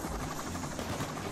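Helicopter in Payday 2 during the Watchdogs heist, a steady rumbling rotor wash filling the short stretch as dense broadband noise, fairly loud and close, with no talk.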